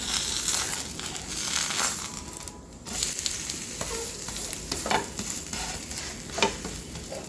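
Bottle gourd thalipeeth sizzles on a nonstick tawa, a steady close frying crackle with soft scraping and stirring-like rustles running throughout, one brief dip in the middle, and no talking.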